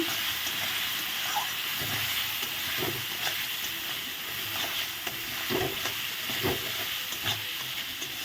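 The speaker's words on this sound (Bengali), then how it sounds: "এক চামচ ধনিয়ার গুঁড়ো এক চামচ কাশ্মীরি লঙ্কার গুঁড়ো দিয়ে ভালো করে এখন মশলাটা কষিয়ে নেব" Coriander and Kashmiri chili powder sautéing in a pan for a vegetarian chana dal dish, a steady close sizzle with repeated stirring scrapes and clinks throughout, no voices.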